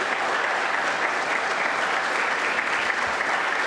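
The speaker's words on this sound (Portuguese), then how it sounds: "E aqui eu peço uma calorosa salva de palmas para elas" A warm round of applause at a formal ceremonial session, dense continuous clapping from a seated crowd filling the whole stretch at an even, fairly loud level.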